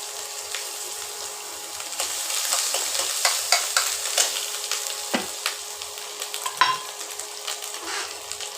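Oil sizzling and crackling in a wok, with scattered sharp pops and spatters and metal scraping of stirring, close by and without voices.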